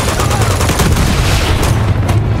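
Loud, continuous automatic gunfire in the PS5 version of Uncharted 2: Among Thieves, a dense, booming rattle that fills the whole moment without pause.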